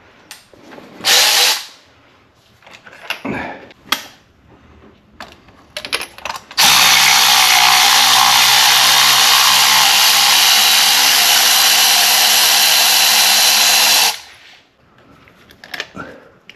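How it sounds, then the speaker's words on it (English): A cordless ratchet whirs loudly and continuously for about seven seconds while working on spark plugs and coils of a 2010–2014 VW 2.5 L engine, preceded by scattered clicks, clanks and brief tool bursts. "Let's use my other ratchet."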